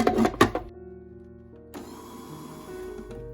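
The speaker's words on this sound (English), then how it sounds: "now I'm going to put my chickpeas in the food processor and I'm going to give them a little mix" Chickpeas for Lebanese hummus churn in a food processor: a few clattering knocks at first, then the motor whirs up into a steady, fairly close hum with no talking.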